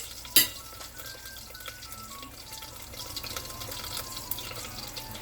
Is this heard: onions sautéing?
yes